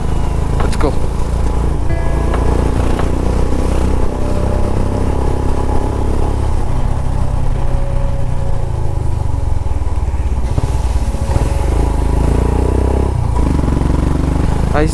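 A motorcycle's exhaust drones steadily while riding, a loud, continuous engine rumble with wind noise, and a rider's voice speaks over it at points.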